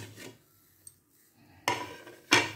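Chopped tomatoes drop into a cooking pan for Andhra tomato pickle, two distinct wet, clattering thuds with a scraping rasp after a quiet lead-in, close and fairly loud.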